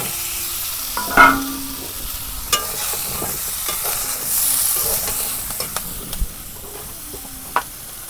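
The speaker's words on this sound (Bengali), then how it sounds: "পটল আর আলু হালকা করে ভাজা নেব।" Pointed gourd and potato pieces fry lightly in a pan, a soft steady sizzle with scattered clinks and scrapes of stirring, close and moderate in level with no talking.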